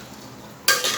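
Coconut milk pulao with carrots, capsicum, prawns and washed rice gets stirred in a pan: a quiet low hiss, then a sudden loud burst of scraping and sizzling near the end.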